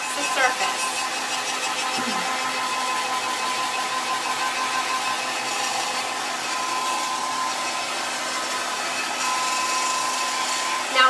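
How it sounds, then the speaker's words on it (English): A blow dryer drying a freshly painted surface runs continuously at close range, a steady loud whooshing hum with an uneven, odd-sounding whine, held for about eleven seconds. "the blow dryer is making funny noises"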